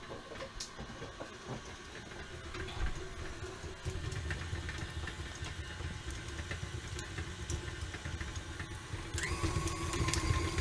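An electric stand mixer creaming butter for oatmeal raisin cookies, a steady mid-pitched motor whir with faint rattling of the beater in the bowl, continuous and moderately close, no talk.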